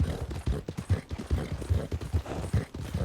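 Missouri Foxtrotter hooves in Red Dead Redemption 2 during a snowy winter endurance race, a steady rhythmic clip-clop of a horse running close behind another, loud and continuous over the whole stretch.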